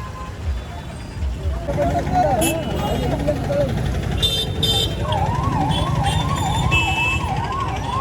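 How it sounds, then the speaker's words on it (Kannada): A wailing ambulance siren rises and falls repeatedly amid loud traffic rumble and street noise as vehicles make way, with voices audible underneath. "ನೋಡ್ರಿ ಆಂಬುಲೆನ್ಸ್ ಅದು"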